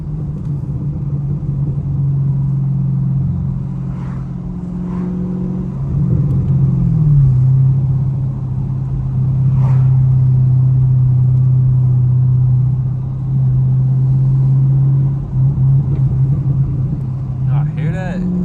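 A Chevrolet Camaro SS drives along at night with a deep, steady exhaust drone and engine rumble, shifting pitch as it changes gear, with occasional soft pops over the low burble.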